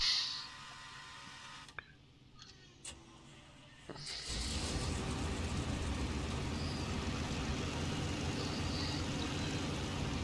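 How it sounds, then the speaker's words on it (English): Tank engine in a combat video game starting up: quiet ambience with a few clicks, then after about four seconds a loud, steady broadband engine rumble sets in and holds to the end, with no talking. "let's turn on again the engine"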